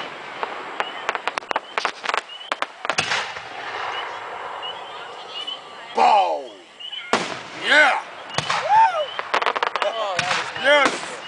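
Fireworks at a Victoria Day display in 2011: a run of sharp pops and crackles, then several rockets whistling upward and bursting, fairly loud and near, with people talking and cheering in between.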